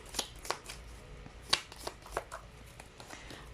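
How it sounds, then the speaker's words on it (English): Tea leaf fortune cards shuffled and handled by hand, a few soft close riffling and flicking bursts at an uneven pace, quiet and with no talk. "let's try to pull up the the tea leaf, rather, the tea leaf fortune cards"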